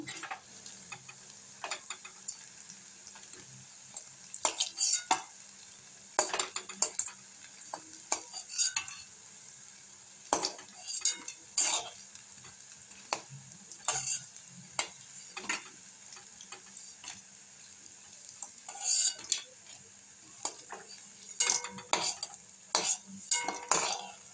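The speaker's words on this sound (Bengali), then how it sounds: "দেখুন এইভাবে ভেজে নিতে হবে" Pumpkin flower pakoras fry in a wok of hot oil with a steady sizzling hiss. Frequent sharp clinks and scrapes of a utensil against the pan sound close by, and no one speaks.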